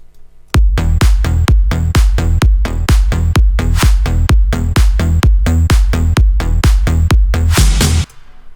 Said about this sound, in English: So guys, for the drum I've picked 3 claps and 1 snare.